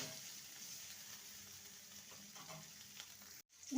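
Bitter gourd frying in a pan gives a soft continuous sizzle with faint stirring, low and close, ending in a brief gap and a louder knock at the end.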